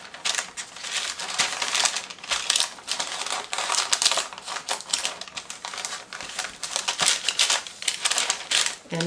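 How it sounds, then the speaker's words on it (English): Fingers pressing and creasing a sheet of paper, a busy run of close, crisp crinkling and rustling with rapid scratchy bursts and no pauses. "I'll just use my fingers to push the paper"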